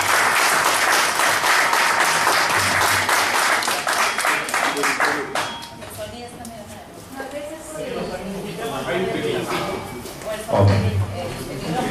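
Audience applause at a Spanish-language health product presentation, dense clapping at first that thins and swells again, with some voices and crowd noise mixed in.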